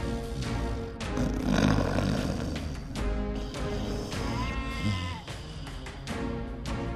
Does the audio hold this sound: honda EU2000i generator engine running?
no